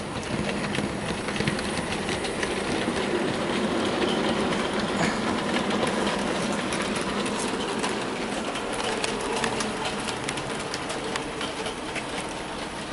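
Hornby SR Drummond 700 model steam locomotive hauling a train of wagons along the track, a steady, continuous rolling rumble with fine rapid clicking from the wheels, close and even throughout, with faint bird calls behind.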